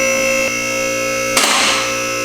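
Safety locks on a car lift in a garage engage with a sharp metallic clatter, one brief burst close by over a steady hum of shop noise.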